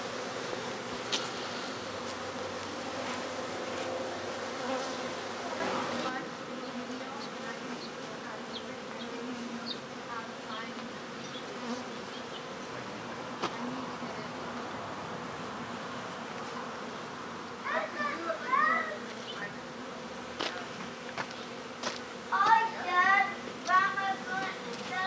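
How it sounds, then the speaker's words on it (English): A honeybee swarm hums steadily around a hive box beside a peach tree as the bees scent, a dense, continuous outdoor buzz with occasional louder passes near the end and faint voices in the background. "bees scenting the Nasenoff there"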